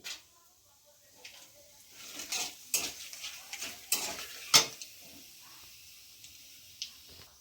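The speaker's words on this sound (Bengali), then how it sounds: "1টা শুকনো লঙ্কা, আর দেবো 1টা এলাচ, 2টো লবঙ্গ, 2 টুকরো দারচিনি ফোড়নে।" Dried red chilli, cardamom, cloves, bay leaves and cinnamon hit hot oil for tempering, giving short crackling sizzles and spoon clinks against the pan in irregular bursts, close and fairly quiet, without talk.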